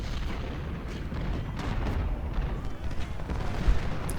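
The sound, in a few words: artillery shell fire in video game Ultimate General Civil War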